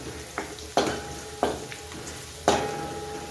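Onions with a pinch of turmeric fry in a pan for leftover-chapati poha, a steady close sizzle broken by four sharp scrapes or stirs of the spatula.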